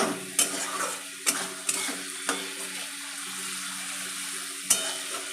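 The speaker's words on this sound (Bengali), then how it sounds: "একদম সুন্দর করে কষিয়ে নেব যাতে মশলার গন্ধটা আর চিকেনের আসতে স্মেলটা যাতে না থাকে" Egg chicken tarka masala being sautéed in a pan, with a steady broadband sizzle and several sharp scraping stirs at irregular intervals, close and moderately loud with no talking.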